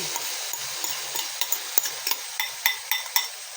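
Marinade is poured into a hot pan of bangus bistek, setting off a sizzling hiss broken by sharp, regular ticks and taps from the pan. No one speaks.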